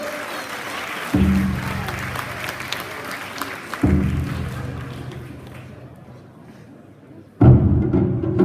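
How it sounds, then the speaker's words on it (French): Audience applauding a karate club at a martial arts festival in Marck, in three loud bursts of crowd clapping separated by quieter murmuring stretches. "Vous pouvez applaudir, allez,"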